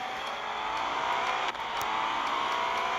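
GT4 race cars roar steadily through a lap in the racing game Euro Track Masters, a loud continuous engine whine with a brief dip partway through and no voices over it.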